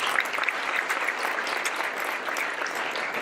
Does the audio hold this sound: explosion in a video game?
no